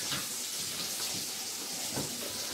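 Bacon sizzling in its own rendered fat in a pan for a classic carbonara, a steady close hiss and crackle that holds at a constant level throughout with no talking.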